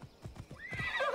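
Horse in the game Assassin's Creed Odyssey gives a few quick hoof clops, then a loud, rising whinny that carries to the end, heard alone and close.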